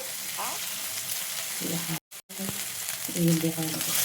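Spice paste frying in oil in a pan while cooking Bengali prawn malaikari, a steady sizzle broken by a brief silent gap, with stirring scrapes and a few faint murmurs over it.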